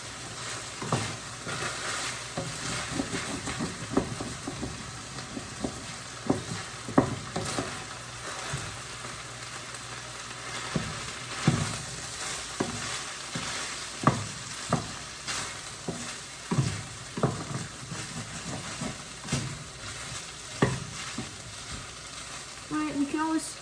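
Food sizzles steadily in a hot pan while a utensil stirs it, giving repeated close scraping strokes over a constant frying hiss, with no talking.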